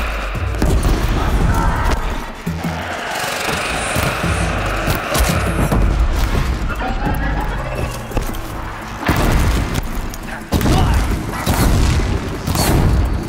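A loud, booming enemy explosion in Horizon Zero Dawn, set among continuous heavy combat with thuds and crashes, followed by further bursts around ten seconds in; game sound effects fill the whole stretch.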